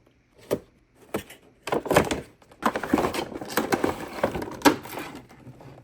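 Someone opens the packaging of a McFarlane Toys Phantasm action figure from the Batman: The Animated Series line, with close crinkling, tearing and knocking of plastic and cardboard in irregular bursts and no talking.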